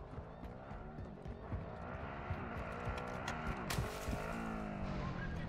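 A monster truck drives in the DMZ mode of the video game Call of Duty: Modern Warfare II, its engine a steady droning roar that rises and shifts in pitch as it revs, with scattered knocks and bumps over it.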